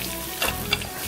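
Mud crab pieces fry in a pan with only a thin film of oil, giving a steady close sizzle with a couple of brief louder crackles.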